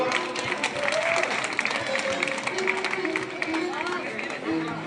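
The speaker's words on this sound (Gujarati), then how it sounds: "તાળી તો પાડો બાબા" An audience claps throughout a Shiva katha religious discourse in a crowded hall, a dense, continuous patter of applause mixed with a speaker's amplified voice.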